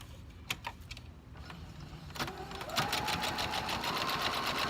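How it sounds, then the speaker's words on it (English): A sewing machine running a straight stitch through bulky book-building material, short bursts of needle clatter at first, then a steady, fast mechanical whir that carries on. "I'm just using a straight stitch, and I'm going to be a little bit wavy"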